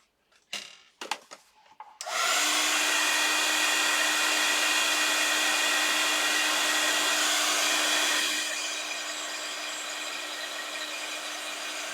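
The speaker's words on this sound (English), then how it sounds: "Okay, I'll heat set that" A handheld heat tool used to heat set embossing on a signature page: after a few brief clicks and knocks, a loud steady whirring blast of air starts and runs continuously, easing slightly in pitch and level near the end.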